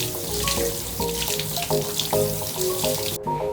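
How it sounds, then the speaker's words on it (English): Water runs from a tap over bamboo items being washed, a steady splashing stream broken by clattering knocks as the pieces are handled and turned under it. "So I gave them a quick wash"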